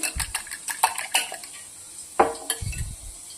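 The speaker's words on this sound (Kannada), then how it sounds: "ಮೊಟ್ಟೆನ ನೀಟಾಗಿ ಈ ಥರ ಬೀಟ್ ಮಾಡ್ಕೊಳ್ಳಿ" Eggs being beaten in a bowl for chicken kabab, a utensil clinking and scraping against the bowl in quick irregular strokes with a few louder knocks, close by and with no talking.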